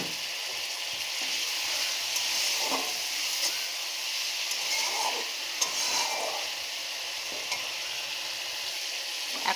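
Spice masala frying in a pan sizzles and hisses steadily after water is added, a continuous close crackle with occasional stirring clinks and no talking.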